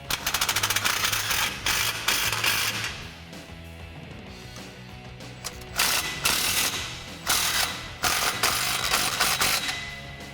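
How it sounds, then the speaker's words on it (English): A 13mm socket ratchet tightening exhaust clamp bolts on a 2011-2014 Ford F150 3.5L EcoBoost, with a long run of loud, fast ratcheting clicks up close, then several shorter bursts of clicking after a pause. "we're going to use a 13mm socket to tighten those up"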